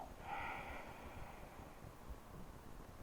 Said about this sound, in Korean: 천천히 숨 마시고 천천히 내쉬고